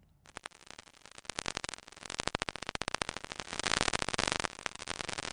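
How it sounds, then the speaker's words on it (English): Vaquita porpoise clicks recorded underwater, rapid trains of sharp broadband clicks that speed up and grow louder over a faint background hiss. "This is the sound of the so-called senorita of the sea, the Vaquita porpoise"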